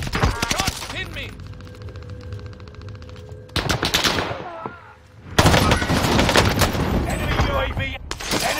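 Automatic weapon fire in the Call of Duty Warzone video game, rapid bursts of gunshots with loud explosive cracks, a short lull in the middle, then dense sustained firing to the end, with some game voice underneath.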